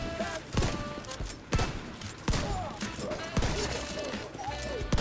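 Shotgun blasts in The Division 2 come as several loud, sharp reports spaced irregularly over a stretch of in-game combat, each with a sudden onset and a short fading tail against a busy background.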